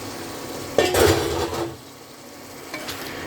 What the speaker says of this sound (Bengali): এখন আমি এটার মধ্যে মাছের ডিমগুলো দিয়ে দিলাম।